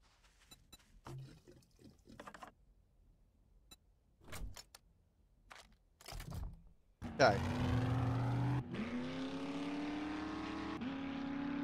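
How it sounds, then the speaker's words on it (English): A vehicle engine in the video game 7 Days to Die starts after a few scattered quiet clicks and knocks, then roars loudly and steadily with a rising, revving tone until the end. "Another engine."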